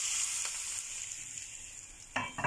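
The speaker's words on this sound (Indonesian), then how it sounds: "Nah, ini kan aku sudah kasih minyak panas ya" Hot oil is poured over smashed cucumber for a pickled relish, giving a steady, soft sizzle throughout, with brief louder crackles and stirring near the end. No one talks.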